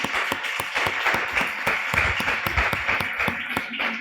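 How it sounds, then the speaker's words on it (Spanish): Church congregation clapping at an evening Spanish-language service, a fairly loud, dense patter of many hands that runs steadily without voices. "¿Qué tal si le damos esta noche un fuerte aplauso a Jesucristo el Señor?"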